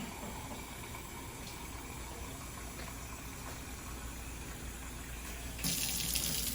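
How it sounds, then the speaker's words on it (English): Water pours steadily into a pot in a continuous gush, close by, growing a bit louder and brighter toward the end as the pot fills. "we're gonna go ahead and put 5 cups of water."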